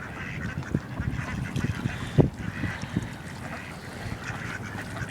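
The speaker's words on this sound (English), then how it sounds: "I don't want to get bit by a goose." Geese and ducks honk and quack at a feeding spot, a busy overlapping chorus of calls at close and middle distance, with one louder honk standing out midway.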